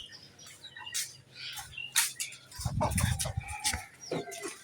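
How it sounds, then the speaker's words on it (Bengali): Chickens cluck and call close by in an outdoor farm setting, with irregular bursts of clucking, a louder flurry midway and faint bird chirps in the background. "আমার বাচ্চা মুরগি দেখো"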